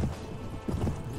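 Horse hooves clip-clopping in the medieval combat game Mount & Blade: Warband, a quick run of close, thudding steps at a steady trotting rhythm with no talk.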